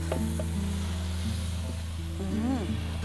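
Water spinach (kangkung) tossed into a hot wok over fragrant spices sizzles steadily throughout, a continuous close frying hiss with music playing underneath.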